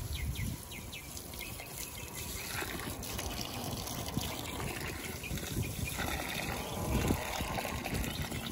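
Water from a hose gushes and splashes steadily into large outdoor plant pots during watering, a continuous close rushing and trickling with no talking.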